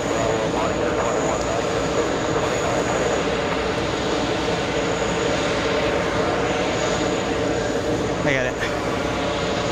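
A Swiss airliner at JFK airport passes with a steady, loud jet engine roar that stays constant throughout, while someone talks over it.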